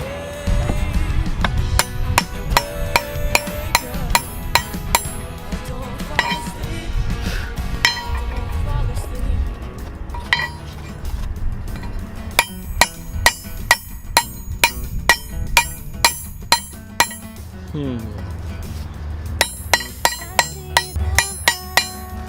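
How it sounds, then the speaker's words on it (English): Sharp metallic clinks of a ball peen hammer striking the ring of a steel wrench, repeated in irregular bursts over a steady bed of background music, fairly loud and close. "I'm going to try to see if I can round the ring back out by hitting directly in the center of it with the ball peen hammer."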